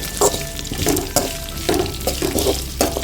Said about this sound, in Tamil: நல்லா கருவேப்பிலை வதங்கிட்டு